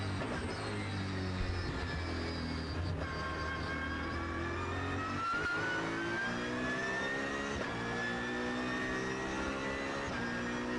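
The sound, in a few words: GT race car accelerating and shifting gears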